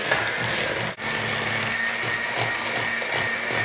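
An electric mixer whirs steadily while blending chocolate chip cookie dough, its motor hum continuous and close throughout, with one brief dropout partway through.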